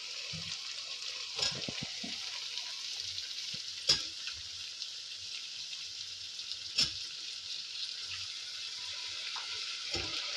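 Mixed vegetables fry in a pan for a bamboo shoot sambar, giving a steady soft sizzle broken by a few sharp stirring clatters, close and alone.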